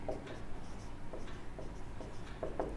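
Marker or chalk scratching quick strokes onto a board as an equation is written, soft intermittent scrapes and taps in a quiet room.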